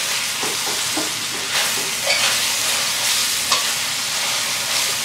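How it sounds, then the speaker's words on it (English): Bacon sizzles and browns in a skillet for beef stroganoff, a steady broadband frying hiss with a few soft scrapes and pops, close and moderately loud, with no talking. "Just want my bacon to actually get brown and crispy, and it's almost there."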